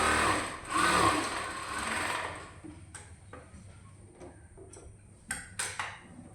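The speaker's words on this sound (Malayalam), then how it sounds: "അതും ഡബിൾ സ്റ്റിച്ച് ചെയ്ത് കൊടുക്കാം കേട്ടോ" A sewing machine double-stitches a leg seam of a child's pants. It whirs loudly for about two and a half seconds, then gives way to a few scattered ticks and clicks of handling the fabric, close by.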